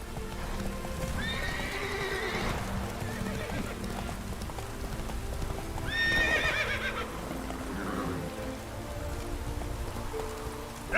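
A horse in a video game clip-clops along through rain, steady hoofbeats with two loud whinnies, while someone talks over the game sounds.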